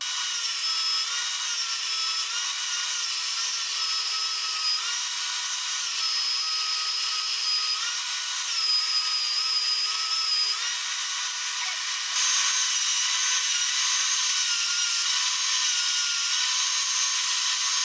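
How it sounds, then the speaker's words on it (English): A belt sander with a coarse belt grinds steadily across an aluminum battery box, a continuous loud high-pitched whine with shifting squeals that brightens near the end. "went over all of it with that belt sander"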